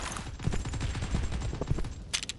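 Gunfire in the mobile battle royale game Mini World Royale: a dense, rapid crackle of shots running steadily throughout, with a brighter burst near the end.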